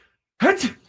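A single fake sneeze from a voice imitating the sound, one short, sharp burst heard close after a moment of silence, with no other talk around it.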